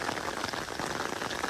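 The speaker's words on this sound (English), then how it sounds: "a sudden deluge of rain" Heavy rain pours down during a Norwich thunderstorm, a dense, steady hiss of drops hitting surfaces close by, continuous and without voices.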